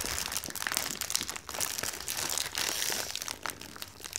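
Continuous crinkling and crumpling of paper packaging being unwrapped close by, with brief rustling bursts and tearing throughout.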